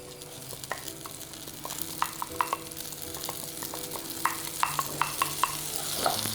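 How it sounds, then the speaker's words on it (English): Rice and vermicelli stirred while frying in ghee in a pan, a steady close sizzle broken by repeated light scrapes and taps of the spoon, getting busier toward the end with no talking. "stir gently so that you get all of the vermicelli mixed in with the rice"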